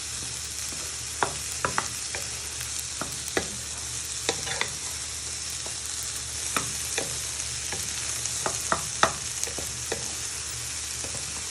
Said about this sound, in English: So just moving them with a wooden spoon for a few minutes.